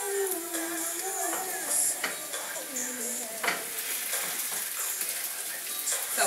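Fish hitting a hot pan beside sautéed vegetables sizzles steadily while a utensil scrapes and stirs in irregular clacks, close up and fairly loud, with no one speaking.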